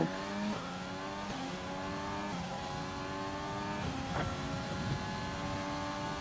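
Race car engine in a Formula 1 video game lapping the Mexico circuit, steady loud whine with repeated rising revs and gear shifts throughout, no talk.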